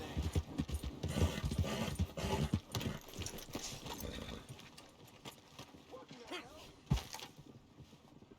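Horse hooves clip-clop in an irregular walking rhythm, loud at first and then fading, with a sharp knock near the end and a few voices mixed in.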